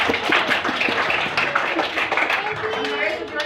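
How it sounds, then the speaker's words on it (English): An audience at a talk applauds in a steady, dense patter of clapping that lasts throughout, with a voice speaking over it. "Round of applause."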